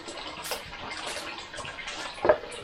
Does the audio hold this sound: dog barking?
no